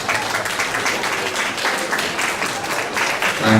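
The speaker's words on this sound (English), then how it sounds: "Please give me a hand of applause." Steady crowd applause at an association convention in Atlanta, dense and sustained clapping from many hands at a constant level throughout.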